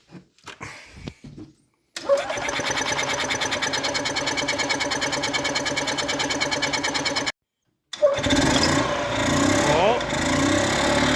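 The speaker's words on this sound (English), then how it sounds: "I'm going to try starting it" A golf cart engine fitted with an aftermarket Amazon carburetor cranks on choke with a dry fuel line, sputtering briefly, then catching and running with a fast rattling putter, cutting out for a moment before restarting rough and loud.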